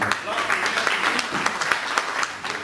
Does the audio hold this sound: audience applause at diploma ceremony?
yes